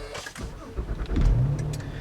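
A 2010 Acura ZDX drives along, its engine rumbling low and swelling slightly as it pulls, heard from inside the cabin at moderate volume.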